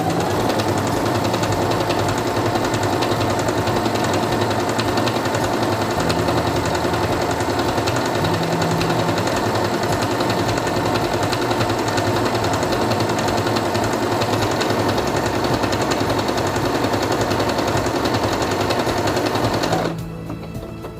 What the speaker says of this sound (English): Place it under the presser foot, lower it, and begin sewing.